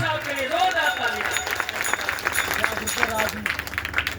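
Crowd applause at a Bhagavat Katha gathering in a Shiv Dham temple, steady dense clapping running throughout with voices mixed in.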